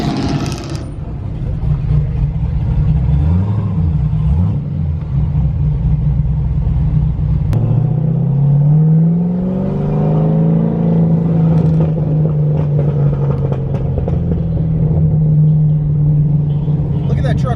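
Many trucks roll past at a truck week gathering: a continuous low engine rumble with rising and falling revs as vehicles pass close by, with faint voices in the background.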